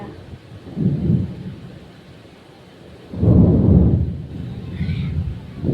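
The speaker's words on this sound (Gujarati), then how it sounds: "વરસાદ ગાજે છે, પેલો વરસાદનો અવાજ આવે જોરદાર" Two deep rolls of thunder rumble through a village rainstorm, the second longer and heavier, over a continuous hiss of rain falling outside during a power cut.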